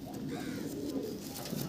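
A male pigeon, one of the Punjabi or Malbai breeds kept in a loft with clipped wings, coos in a low, continuous rolling murmur that stays steady and close throughout.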